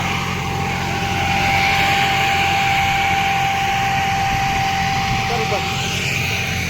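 A Farmtrac Atom 30 hp tractor engine drones loudly and steadily under load throughout, a constant close mechanical roar with no break.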